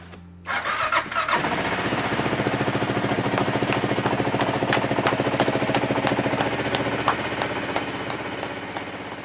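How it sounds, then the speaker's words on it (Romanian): A motorcycle engine cranks briefly, then catches and settles into a loud, steady, close-up idle with a rapid, even pulse that runs for several seconds without any talking. "Mă duc să iau motorul meu, să văd dacă al meu pornește"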